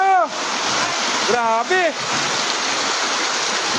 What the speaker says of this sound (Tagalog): Rumaragas ang baha na sinabayan ng malakas na buhos ng ulan.